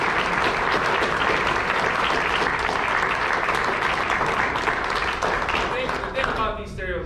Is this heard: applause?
yes